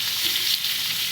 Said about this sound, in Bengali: ওলকপি আলু ভাজবো, ভেজে নিয়ে লাল লাল করে একটু ভেজে নিয়ে